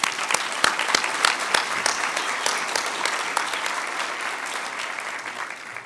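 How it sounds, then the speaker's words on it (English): Applause for award winners at a chamber of commerce anniversary dinner: a room full of people clap steadily, dense and close, with a few individual sharp claps standing out and the applause gradually thinning toward the end. "can we give a big round of applause for all of our award winners tonight?"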